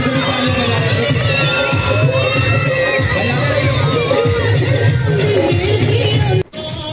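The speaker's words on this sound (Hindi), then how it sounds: "एक बार जोरदार तालियां होना चाहिए।" An audience at an evening stage program in Jehanabad roars with loud, continuous cheering, shouts and whistles, a dense wall of crowd noise that drops abruptly near the end.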